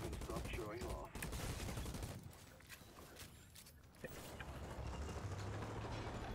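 Weapon-test gunfire in the Outriders video game comes as dense bursts under a loud, busy game mix with rumbling sound effects, and it eases off briefly in the middle before picking up again.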